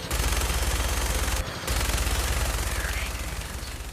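Rapid automatic gunfire in Fallout 4, loud and continuous bursts with a brief pause partway through, no talking.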